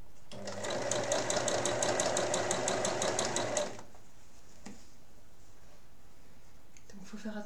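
A domestic sewing machine stitches an apron pocket seam in a fast, steady mechanical whir with a rapid clicking rhythm, close and loud, for about three seconds before stopping. Quiet handling noises and faint speech follow.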